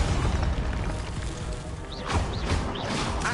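Expelliarmus disarming spell cast in the video game Hogwarts Legacy, a loud magical whoosh with booming impacts and a few rising zaps over a dense, rumbling game soundscape.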